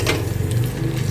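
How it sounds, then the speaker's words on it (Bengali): Raw ginger paste fries in hot oil in a home kitchen, giving a loud, even, continuous sizzle with a crackling hiss and no breaks across the short stretch. "মানে আদাটা একটু ভাজতে হবে যাতে গন্ধটা বেরোয়"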